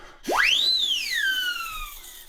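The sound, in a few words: siren whistle blown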